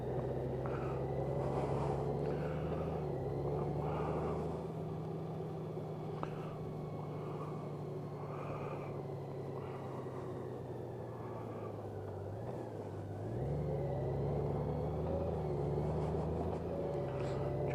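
A Honda Goldwing 1800cc DCT motorcycle runs in gear with a low, steady engine drone, the pitch sagging slightly in the middle and rising again toward the end.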